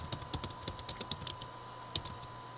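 Typing on a computer keyboard while entering data in an Excel attendance sheet: a quick run of close, light key taps with short pauses and a final firm keystroke, no talking.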